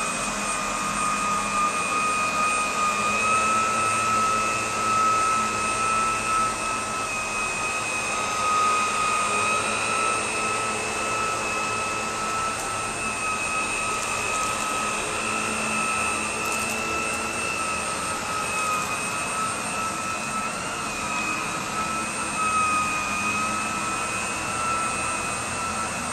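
An Electrolux Lux Classic vacuum cleaner runs steadily and loudly at close range, a constant whining motor drone with a sharp high tone that holds level throughout, with no talking over it.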